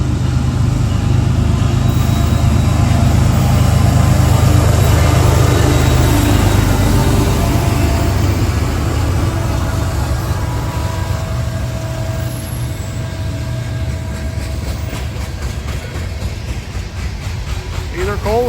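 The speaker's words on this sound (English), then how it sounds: "got another train coming here" A loaded CSX northbound coal train passes in Glendale, Ohio, a loud steady rumble of locomotive and wagons that slowly fades, with a squeal near the end.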